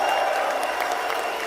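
An audience breaks into a full round of applause, dense steady clapping that holds evenly for the whole moment.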